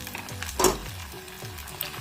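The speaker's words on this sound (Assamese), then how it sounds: "এইখিনি এতিয়া আমি ৰঙচুৱা পৰালৈকে ভাজি থাকিম" Chira (flattened rice) balls deep-fry in hot oil with a steady soft sizzle and faint bubbling, one brief louder crackle midway, no talking.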